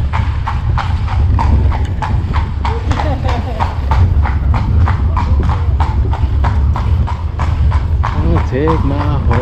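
Horse hooves clip-clop at a steady, even trot during a horse-drawn carriage ride through Dublin streets, loud and close throughout, with people talking over the hoofbeats.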